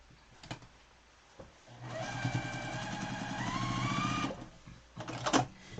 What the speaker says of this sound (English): And we sew this piece.